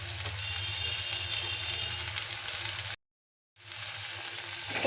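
Spices with salt, turmeric and green chilli fry in a pan with a steady, dense sizzle that cuts out briefly, then resumes.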